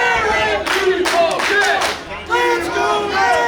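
Wrestling crowd at a live independent show, loud and close, chanting and yelling in rising swells with a couple of brief dips, voices blending into a roaring wave.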